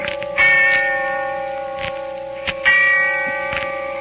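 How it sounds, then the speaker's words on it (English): A large church bell tolls twice in the darkness of early evening, slow and heavy, each deep strike leaving a long ringing hum that fades before the next stroke. "And the sound of the bell tolling away in the darkness of early evening."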